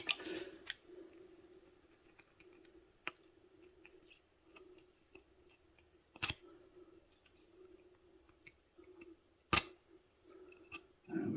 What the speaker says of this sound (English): we take a bit of the coating off